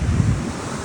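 Surf and waves washing onto an ocean beach thick with weed, with heavy wind buffeting the microphone; a steady low roar close by with no voices.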